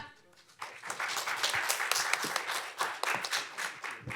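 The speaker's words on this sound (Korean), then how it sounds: "큰 박수로 모시겠습니다" Applause swells up after a quiet moment as an audience welcomes a presenter at a public HRD contest final, dense hand clapping that stays loud and steady to the end.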